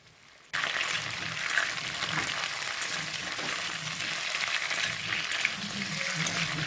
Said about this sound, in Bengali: তো আলু ফুলকপি হালকা একটু ভেজে তুলে রাখতে হবে।